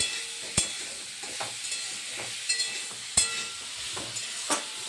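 Asafoetida (hing) sizzles in hot oil as tempering for a pumpkin and potato curry, a soft steady frying hiss broken by sharp spoon scrapes and stirring clinks.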